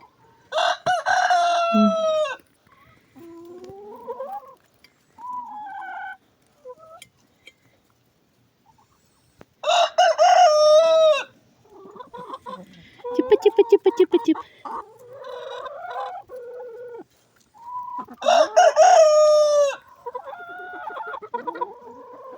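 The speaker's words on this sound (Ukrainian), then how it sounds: "О, півник, ну як ото не соромно. Зараз закричить." A rooster crows three times, loud and close, in a backyard flock in the Sumy region, with softer clucks and hen chatter between the crows.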